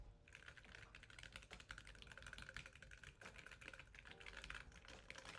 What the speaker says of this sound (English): Yeah, so you get included these linear switches, Kale Chalk low profile switches, and they sound like this.